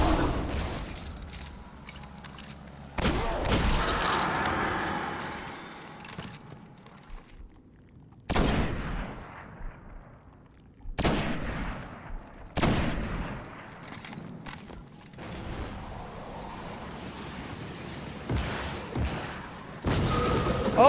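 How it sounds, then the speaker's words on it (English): Word of Crota hand cannon firing explosive rounds in a shooter video game: several loud, sharp blasts with booming tails, spaced irregularly across the stretch with quieter gaps between volleys. "I forgot the Word of Crota hand cannon does explosive rounds"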